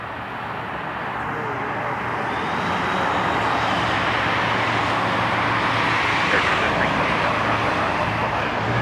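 A KLM Boeing 787 airliner arrives at snowy Toronto airport, a broad distant jet roar that slowly builds and then holds steady, with faint background voices.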